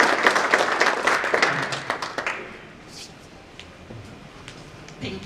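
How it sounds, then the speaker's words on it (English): A conference audience breaks into brief applause that peaks at the start and thins to a few scattered claps within a couple of seconds, with faint room murmur behind it. "Let's clap for her as she comes forward."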